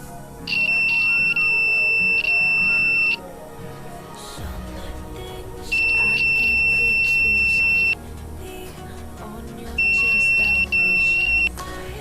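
A homemade anti-sleep alarm for drivers sounds its buzzer in three loud, shrill beeping bursts of about two to three seconds each, separated by quieter stretches of room noise and a faint motor hum.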